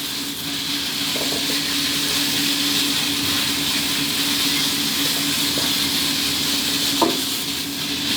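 Marinated pork stir-fried with garlic in a pan over medium-high heat, a steady loud sizzle with a constant hiss and occasional clicks of a utensil against the pan.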